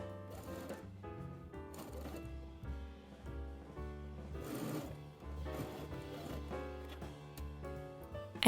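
A sewing machine runs in bursts over stretched, shirred dress fabric, its rapid mechanical stitching rattling close by with short pauses between runs, no one talking.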